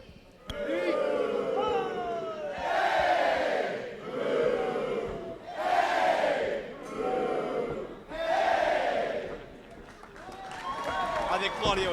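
A wrestling arena crowd cheers in repeated surging waves that swell and fade roughly every two seconds, loud and full, as a wrestler poses in the ring.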